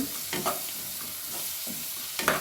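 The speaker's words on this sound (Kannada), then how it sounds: "ಖಾರ ಹಾಕ್ಕೊಂಡು ಮಿಕ್ಸ್ ಮಾಡ್ಕೊಳ್ಳೋಣ." A spoon stirs chili powder into a cooking dish, with a few distinct scraping strokes over a low background sizzle, fairly close and without talk.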